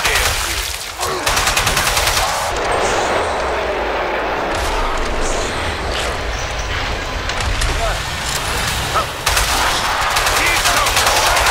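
Rifle fire in Killing Floor 2 comes as loud, rapid bursts of shots with dense clatter and impact noise, with brief gaps between volleys and continuous loud combat throughout.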